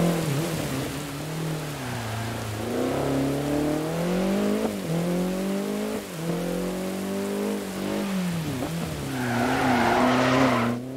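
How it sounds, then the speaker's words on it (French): BMW M3 rally car in DiRT Rally 2.0 sliding its rear on a wet German rally road, engine droning loud and steady with shifting revs and a hiss of spray and tire scrub, no talk. "l'arrière de la voiture qui glisse beaucoup"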